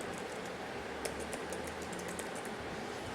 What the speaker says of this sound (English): you can simply type in Microsoft Test Manager